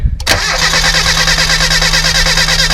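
A 1993 Mazda Miata 1.8 engine cranks on the starter during a compression test, giving a loud, close, steady rhythmic chugging that starts abruptly after a click and continues without firing.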